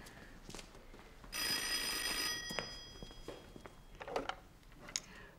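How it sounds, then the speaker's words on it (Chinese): A telephone rings with a bright electronic bell tone, starting abruptly and holding steady for about two seconds before cutting off, set against quiet room noise with a few soft knocks. "我接个电话。"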